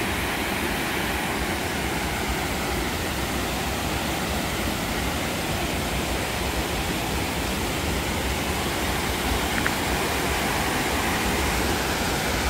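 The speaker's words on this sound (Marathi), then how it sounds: "धरणातून पाण्याचा विसर्ग सुरू झालेला आहे मित्रांनो." Overflow water discharging from the Agnavati project dam, a dense, loud, unbroken roar of rushing water filling the whole stretch without any voices.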